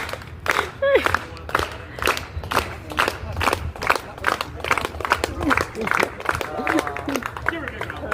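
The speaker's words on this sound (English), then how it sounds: "Give her a big round of applause." An audience at a live show claps and shouts together in rhythmic bursts. The sound is loud and close, with excited voices calling out over the beating hands throughout.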